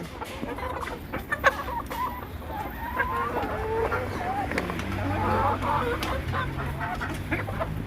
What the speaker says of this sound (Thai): นี่ก็ไก่พวกนี้มันชอบกิน